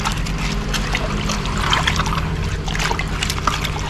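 Clean water splashes and trickles steadily while a container is rinsed, with close, continuous dribbling and light sloshing.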